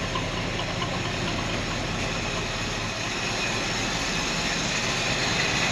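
A 1955 Chevrolet Nomad, long left in storage, idles steadily up close, a constant low engine rumble that continues without pause and without voices.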